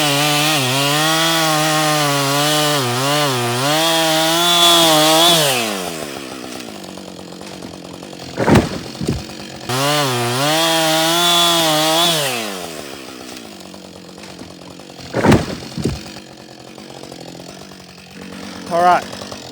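An ECHO CS 620P and a Husqvarna 562XP chainsaw felling small timber: two long, loud bursts of high revving, each winding down to a lower idle, separated by short knocks and bumps.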